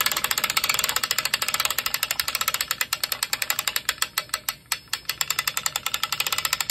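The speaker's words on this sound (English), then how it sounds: "Now we're going to engage our winch." Jet ski trailer winch with a new strap and 316 stainless steel hook being cranked tight, a rapid run of sharp metallic ratchet clicks that slows into distinct, evenly spaced clacks, close and loud.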